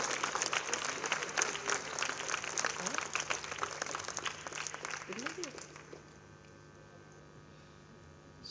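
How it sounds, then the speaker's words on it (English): A debate competition audience gives a round of applause, dense clapping that continues steadily for about five seconds, then fades away, leaving a quiet room hum. "a big round of applause to Kajori Sen."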